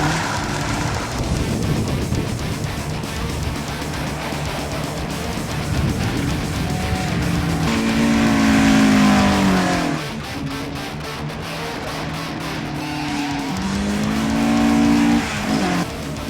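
A Vauxhall Astra GSI is driven hard around a strip, its engine revving up in repeated rising sweeps as the tyres squeal through the turns, loud and near throughout.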